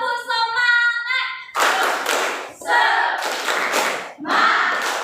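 Elementary school class performing the tepuk semangat clapping chant, bursts of many hands clapping in a rhythmic pattern with children's voices shouting along, loud and close after a brief sung tone at the start.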